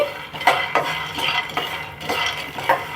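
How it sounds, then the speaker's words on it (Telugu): Peanuts roasting in a pan on a medium flame, stirred with a metal spoon: rhythmic scraping and rattling strokes about twice a second, close and clear with no talk. "చూస్తున్నారు కదా కలుపుకుంటూ వేపాలండి"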